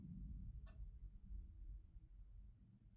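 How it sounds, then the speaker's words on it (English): A small space heater gives a single soft tick, faint and brief against a low, steady background rumble in a quiet room. "I can hear my little heater ticking in the background."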